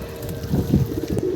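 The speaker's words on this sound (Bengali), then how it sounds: "অল্প কিছু কবুতর বাচ্চার মাদিগুলো গোসল করতেছে" Female pigeons bathing in water, with soft splashing and low cooing close by, a steady breezy rustle running under it.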